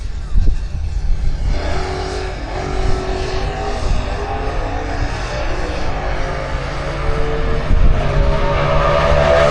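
A drag racing car makes a loud, close run at a Doorslammers event, with a roaring engine that builds and surges in waves over a steady background din, joined by a brief announcer voice.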